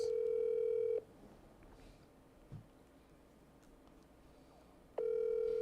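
On a Guyanese radio show, a telephone call goes out with steady, loud ringback tones at the start and end, separated by a quieter gap with a faint click.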